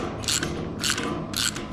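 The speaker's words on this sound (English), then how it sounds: "we're going to use our plier to hold the nut and our socket to put on" A socket wrench ratchets a safety nut, held with pliers, onto the wheel of a Garvee 20-gallon electric oil drain pan. Three close, loud bursts of rapid clicking come in an even rhythm.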